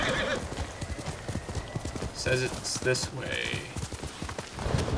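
Horse hooves clip-clop in a steady walking rhythm in the video game Ghost of Tsushima, with a horse whinnying briefly and someone speaking over the hoofbeats.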